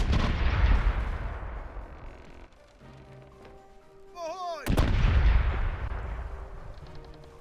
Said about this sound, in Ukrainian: Гармати на правому борту до бою готові!